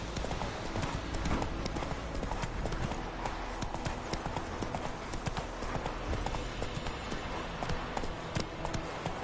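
Roach, Geralt's horse in The Witcher video game, gallops with a steady, loud clip-clop of hooves running continuously throughout, over a dense background.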